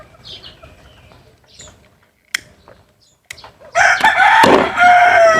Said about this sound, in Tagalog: Kaya maraming alaga di tatay manok